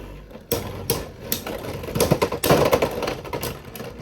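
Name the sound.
Beyblade X Sting Unicorn top launched and spinning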